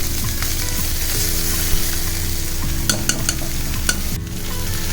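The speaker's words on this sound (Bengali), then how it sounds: "সমস্ত সবজিটা দেওয়ার পর একটু সবজিটা ভাজা ভাজা হবে" Vegetables including cauliflower, added to a broken wheat khichuri, fry in a hot pan with a loud steady sizzle, punctuated by a few sharp clinks and scrapes of stirring.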